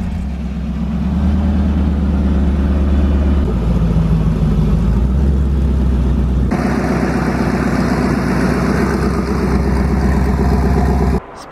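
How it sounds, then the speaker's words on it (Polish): A Koenigsegg CCX sports car engine rumbles and revs loudly and steadily, with deep exhaust growl throughout and a sharp rise in intensity midway. "Posłuchajcie, jak brzmi Koenigsegg CCX."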